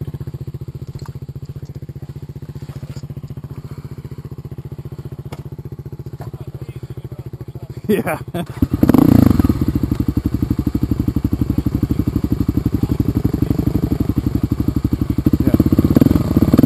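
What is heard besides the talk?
dirt bike riding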